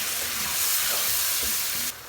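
Tomato paste and ground masala sizzling and frying in a pan, a steady close hiss with faint stirring scrapes, cutting off near the end.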